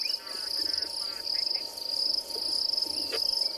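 A grasshopper rubs the serrated edges of its leg against its body on a South African morning safari, making a continuous high buzzing that pulses in steady waves, close and fairly loud.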